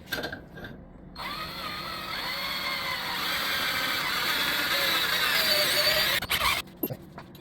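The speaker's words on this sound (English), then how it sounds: "Now we're hopefully going to drill in a straight line." A power drill whines loudly and steadily for several seconds, pitch shifting as it bites into a deer antler skull, then cuts off with a few brief bursts.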